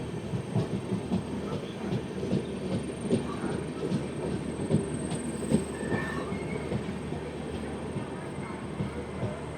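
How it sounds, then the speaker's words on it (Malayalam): A passenger train rolls into Thrissur railway station toward platform 2, wheels clacking rhythmically over rail joints with a steady rumble and faint squeals, heard from inside the carriage with some murmured voices nearby. "നമ്മൾ തൃശ്ശൂർ സ്റ്റേഷനിലേക്ക് പ്രവേശിക്കുന്നു."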